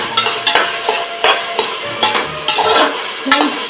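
Tomatoes and onions sauté in a pan with salt, a steady sizzle broken by repeated scraping stirs and light clinks of a utensil against the pan, close and fairly loud with no talking.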